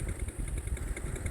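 A motorcycle engine in the ojol ride-hailing video game idles and putters steadily, with a rhythmic mid-range chug and a faint high whine, fairly quiet and alone.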